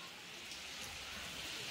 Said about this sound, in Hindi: बहुत ही ज़्यादा गाइस बारिश हो रहा